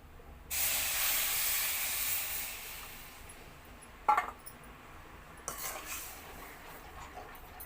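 Coconut milk poured into a hot fried mixture in a pan sets off a loud, sustained hiss of sizzling that slowly fades, followed by a couple of sharp utensil clinks.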